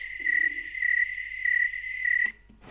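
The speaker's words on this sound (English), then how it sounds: "Crickets." Crickets from a sleep sound machine chirp in a steady, high-pitched pulsing trill, loud and close, with a faint lower chirp in the background before it stops suddenly.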